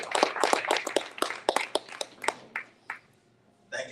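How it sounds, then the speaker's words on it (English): Applause from a lecture-hall audience at a distinguished lecture series, a burst of near, sharp hand claps that thins out into a few scattered claps and fades, with a brief renewed burst at the end. "let's give a big round of applause to Dr. Rudd"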